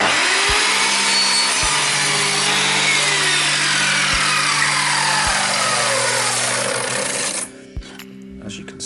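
Evolution R210CMS compound mitre saw slicing through damp timber, a loud steady whine of the blade with repeated sharp ticks, running close and continuous for about seven seconds before cutting off and winding down.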